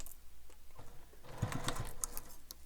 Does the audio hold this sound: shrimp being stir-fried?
no